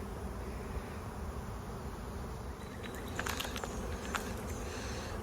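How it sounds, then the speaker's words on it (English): A swarm of bees hums continuously outdoors near pine trees by a house, a steady mid-level drone with a few individual insects buzzing closer as they pass. "I just walked outside to go to the front yard and I heard this swarm."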